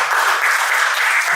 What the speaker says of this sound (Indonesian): Sekali lagi tepuk tangannya buat Civeni.